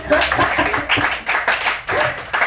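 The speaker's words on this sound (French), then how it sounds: "On applaudit pour lui." A live audience at a comedy show claps in uneven bursts, lively and close, with a few voices mixed in.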